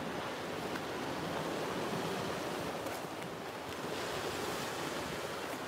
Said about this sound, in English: Hopefully you can hear the waves, guys. The waves are really nice in the morning.